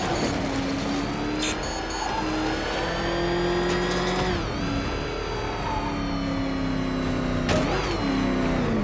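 A Cobra tank engine in a Batman video game rumbles steadily throughout, with a rising and falling revving tone and brief mechanical whines near the start and the end.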